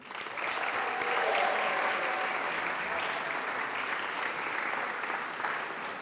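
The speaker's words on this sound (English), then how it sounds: "please give a huge round of applause to the TLN team" An audience at an awards gala for influential Hispanic Canadians gives a big round of applause to the organizing team, a full, sustained roar of clapping that swells early and carries on steadily for several seconds.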